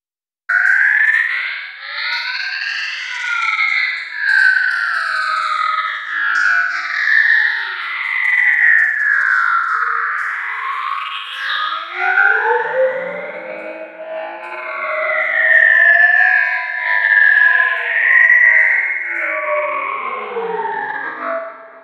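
Hi-hat heavily processed with resonant filters, distortion and added reverb, turned into a continuous, swooping, siren-like tone with overlapping rising and falling sweeps, loud and sustained with no talking.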